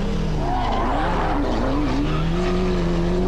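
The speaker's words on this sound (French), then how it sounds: "Et Broekmans qui allume encore ses pneus" A rally car at the 1993 Ypres 24 Hours rally spins its tyres, a loud strained engine note rising and wavering over rough tyre noise, close and continuous.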